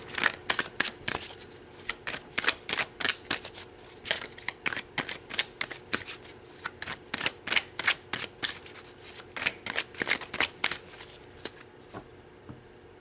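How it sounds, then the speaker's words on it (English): A deck of tarot cards is shuffled close up and quietly. Quick riffling bursts repeat in an uneven rhythm for about twelve seconds, with no talking. "so let's pull some more tarot"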